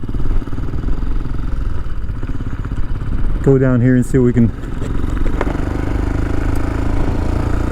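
A loud, close Royal Enfield Himalayan motorcycle with a 462 big bore kit and aftermarket exhaust rumbles steadily throughout, with a throaty exhaust note, while someone talks briefly over it midway.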